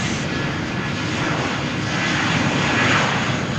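A Vueling jet airliner powers up for takeoff on the runway at Malaga Airport on a stormy morning, a loud, continuous broadband engine roar that holds steady and swells slightly.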